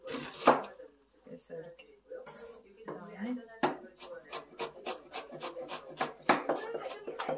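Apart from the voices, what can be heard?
knife finely slicing onion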